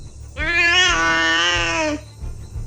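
Inside a castle, a cat gives one long, loud, nasal meow lasting over a second, near and clear, followed by a quiet murmur of background noise.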